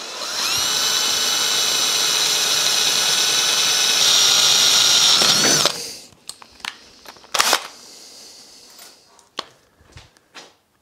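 A loud, steady power drill whines continuously for several seconds while drilling a metal mounting flange for strut top brackets, then stops, leaving scattered clanks and knocks from metalwork.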